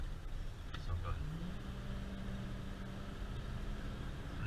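A 1995 Ford F350 one-ton 4x4 pickup with a 460 engine drives past steadily, its low engine rumble continuous and fairly loud throughout, with a faint voice in the background.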